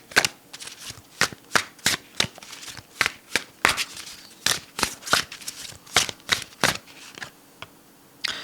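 Tarot-style dragon cards are shuffled and drawn by hand, making a steady run of crisp, close slaps and flicks, roughly two or three per second, with no voices.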